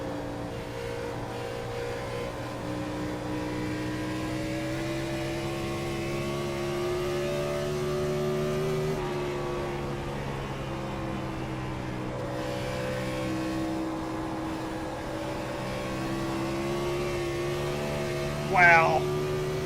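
A NASCAR Gen 4 race car at Dover roars past with a sustained, loud engine note that holds steady across the whole stretch, with a faint high whine near the end.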